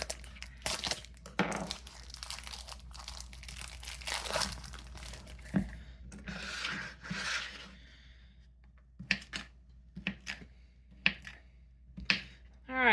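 Plastic packaging around andouille sausage crinkles and tears as a knife cuts it open up close, with scattered crunches and snaps over a low steady background hum.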